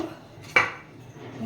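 Roasted rava tipped from a kadai into a bowl, with one sharp metallic clatter of the pan against the bowl followed by a soft fading scrape, close by.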